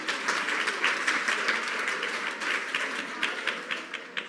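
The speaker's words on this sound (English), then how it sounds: "So you should give yourself a round of applause, I think." Audience applause during a lecture on sleep and stress, a sustained crowd clapping with fairly even, dense rhythm, moderately loud and free of talking.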